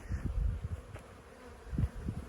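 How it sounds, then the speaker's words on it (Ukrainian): Low buzzing hum of honeybees active around a hive on a sunny, cool spring day, rising and fading as insects pass close, with no voices. "І бджоли супер активні."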